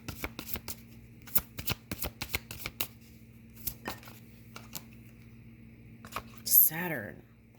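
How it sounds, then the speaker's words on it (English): Tarot cards being shuffled and drawn by hand: a close run of soft riffles, flicks and snaps that come in quick irregular bursts, with a louder swish near the end. "now let's get another card."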